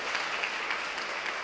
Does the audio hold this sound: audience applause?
yes